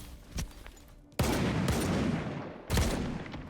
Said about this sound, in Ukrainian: ну що ти починаєш зразу стріляти?